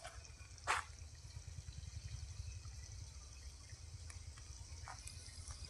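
Irrigation water runs steadily into a black gram field on a farm, a faint, continuous low wash with one sharp click early on.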